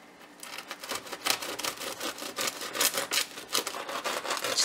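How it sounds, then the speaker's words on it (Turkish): A knife saws through a crusty loaf of bread with a rapid series of crisp, crackling strokes, close up and moderately quiet, with no speech. "Hemen ekmeği kesiyorum."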